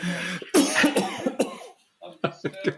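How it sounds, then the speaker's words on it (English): A few sharp coughs in quick succession, close and loud, followed by a short pause and more throat-clearing bursts. "I was trying not to cough, but it caught up to me"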